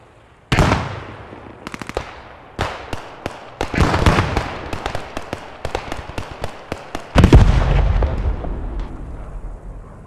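Rapid bursts of gunfire in a sniper video game, with sharp cracks and volleys repeating irregularly at close range, some isolated and some in quick clusters, and a heavier boom near the end.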